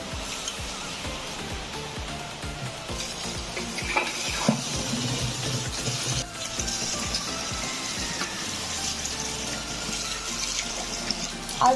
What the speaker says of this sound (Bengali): চালটা আমি আগে ভালো করে ধুয়ে নেবো